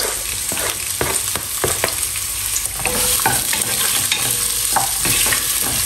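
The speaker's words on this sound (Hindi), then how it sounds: "तेल गर्म हो गई है और अब उसमें डाल देंगे एक और प्याज मीडियम साइज का" A medium-sized onion dropped into hot oil sizzles loudly up close, the steady crackle punctuated by sharp spatula scrapes and taps against the pan.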